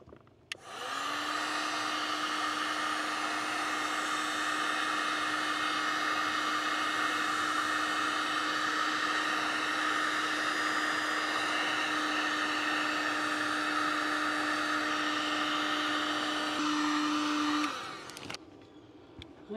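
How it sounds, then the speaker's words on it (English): Heat gun blowing hot air to shrink heat-shrink tubing on a 12V adapter cable, a loud steady fan whir with a constant hum tone that runs about sixteen seconds before switching off. "Let me grab the heat gun and then we'll go from there."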